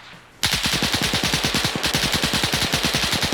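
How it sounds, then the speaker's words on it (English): Heavy automatic gunfire from a PvP shooter match, with rapid, evenly spaced bursts that begin abruptly after a brief quiet moment and then run close and loud without a break. "Dodging some heavy fire that would otherwise hit him in the head."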